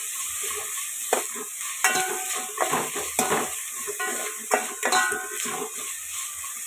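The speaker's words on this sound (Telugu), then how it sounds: "ఇది కూడా టమాటా మగ్గిన దాకా ఫ్రై చేసుకున్నాం." Chopped tomatoes frying in a pan for chicken fry piece biryani, a steady sizzle broken by repeated clinks and scrapes of a spoon stirring against the pan, close and without talk.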